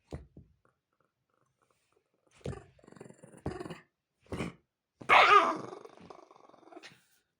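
A dog growls and gives short, gruff barks in bursts during play, with quiet gaps between them and a louder, rougher snarl near the end, recorded close up.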